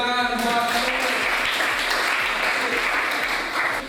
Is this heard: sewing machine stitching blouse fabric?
no